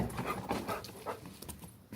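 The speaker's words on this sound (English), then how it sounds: "She's going crazy because she sees another doggy." An excited dog pants rapidly in quick, breathy bursts with faint whimpers, close but quiet, reacting to another dog nearby.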